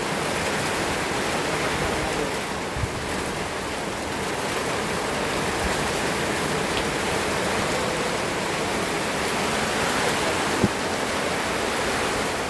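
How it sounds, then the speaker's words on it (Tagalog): Heavy rain falls in a steady, dense roar, close and unbroken throughout, with an occasional soft knock and no talking. "Kasi lakas talaga ng ulan."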